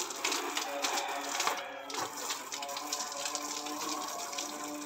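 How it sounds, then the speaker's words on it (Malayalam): Water poured over a soaped-up car during a home car wash, a steady rushing, splashing gush that runs for several seconds, close and continuous. "ഇനി വെള്ളം ഒഴിക്കും."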